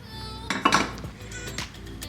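Cooking pan being picked up and handled on a stove while browning shallot and garlic, a couple of close metallic clanks and scrapes in a quiet kitchen.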